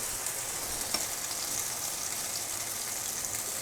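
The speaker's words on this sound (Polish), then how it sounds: "żeby były równo się smażyły" Potato pancakes fry in a pan with a steady, even sizzle and hiss throughout, close by and without talk.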